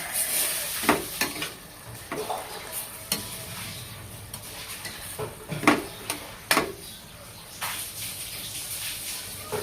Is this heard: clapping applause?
no